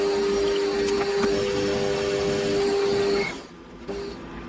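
A homemade power feed drives a compound slide through a metal cut, giving a steady mechanical whir with a constant motor whine. It cuts off abruptly, and a quieter hum follows.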